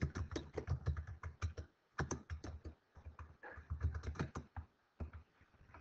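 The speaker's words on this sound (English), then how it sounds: "I could go ahead and type in whatever text I want to be displayed." Fingers type on a computer keyboard up close, a quick irregular patter of clicking keystrokes in bursts with short pauses between them.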